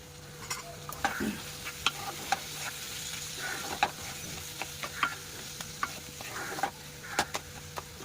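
Salted fish frying lightly in a pan with cumin and coriander powder, a low continuous sizzle with regular sharp ticks and scrapes of a spatula stirring, close and unhurried.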